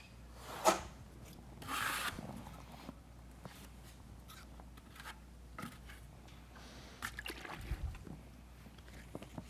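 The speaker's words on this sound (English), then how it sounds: "Just gonna use the flat side here on the outside edge, getting good contact with the thin set." The flat side of a 1/8 inch square-notch trowel spreads thin-set mortar along the outside edge of a shower bench or curb, making faint, intermittent scraping strokes with a few louder rubs.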